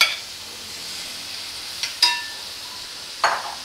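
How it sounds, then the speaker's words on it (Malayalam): Finely chopped onions frying in a pan for Fort Kochi style potty curry, a soft steady sizzle broken by a few sharp scrapes or clinks of a utensil stirring. "ഇപ്പം ഞാൻ സവാള ഇതിലേക്ക് ഇട്ട് കൊടുക്കണേന്ന്. ഇത് സവാള പൊടിയായിട്ട് അരിഞ്ഞതാണ് കേട്ടോ."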